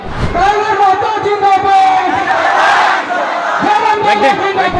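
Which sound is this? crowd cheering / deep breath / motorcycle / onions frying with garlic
crowd cheering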